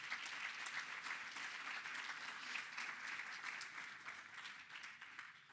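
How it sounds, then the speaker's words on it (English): Steady applause from a symposium audience at a museum conference, many hands clapping evenly throughout and fading slightly at the end, heard from some distance with no voices over it. "Please give a round of applause for Dr."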